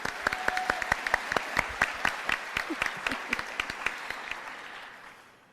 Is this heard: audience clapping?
yes